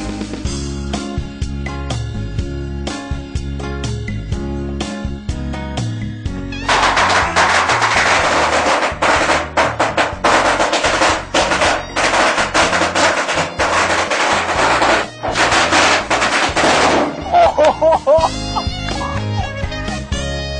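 A string of 1,000 firecrackers is lit and explodes at the Prince of Chumporn memorial shrine in Thailand, with dense, loud, rapid crackling that bursts in after a musical intro and rattles on continuously for about ten seconds before fading out.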